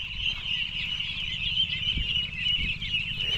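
A flock of duckling chicks peeps in a continuous high-pitched chorus, close and busy, with a couple of soft low thumps underneath.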